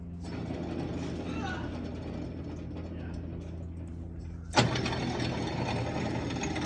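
A noisy idler pulley on a 1966 Ford Thunderbird engine grinds and whirs steadily at idle, close and continuous, with a sharp knock partway through before the running noise carries on.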